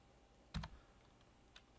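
A couple of quiet key presses on a computer keyboard, one sharper click followed by a fainter tap, close and isolated in a near-silent room.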